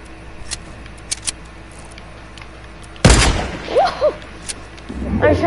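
Gunfire in a Fortnite duos match: a sudden loud burst of shots, then scattered shots and game effects, with a voice calling out over the action.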